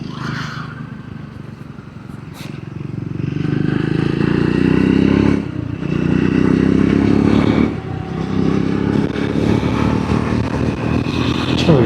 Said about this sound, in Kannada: ಒಳ್ಳೆ ಎಕ್ಸಾಸ್ಟ್ ನೋಟ್ ಇದೆ ಡ್ಯೂಯಲ್ ಬ್ಯಾರಲ್ ಎಕ್ಸಾಸ್ಟು